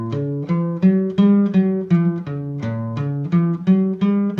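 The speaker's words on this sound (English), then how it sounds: "12 bar blues is a very common sounding sort of tune." Guitar strums out a loping twelve-bar blues shuffle, chords repeating in a steady swung rhythm with a moving bass line, clear and close with no voices.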